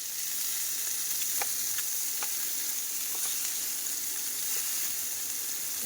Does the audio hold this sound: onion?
yes